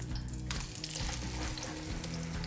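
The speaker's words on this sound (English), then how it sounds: "You can hear it really sizzling." Quiet, continuous crackling sizzle of beef searing in hot oil, with a low hum in the background and no talking.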